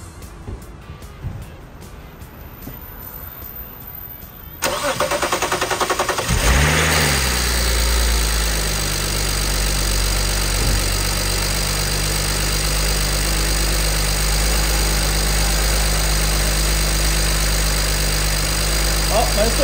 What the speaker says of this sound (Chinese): 好，我们可以准备做第一次的发动。